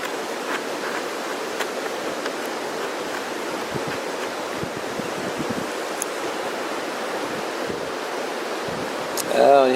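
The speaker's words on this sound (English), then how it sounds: "Oh, and here comes the wind." Wind blows steadily outdoors as a continuous broad rushing noise, close and fairly even, rising slightly at the very end.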